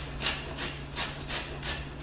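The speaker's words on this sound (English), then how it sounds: "Okay, the rest of these items I am going to grate. And with these are organic carrots." Organic carrots are rubbed against a grater in a kitchen while a fermentation batch is prepared, making soft rhythmic scraping strokes about every third of a second, fairly quiet and close over a faint low hum, with no speech.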